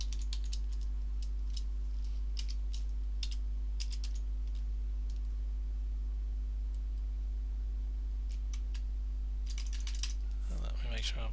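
Someone types a password on a computer keyboard while setting up a Zoom account, a run of quick close key taps in short bursts over a steady low electrical hum.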